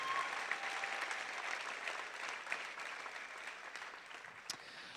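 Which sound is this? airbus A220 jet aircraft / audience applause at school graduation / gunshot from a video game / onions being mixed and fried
audience applause at school graduation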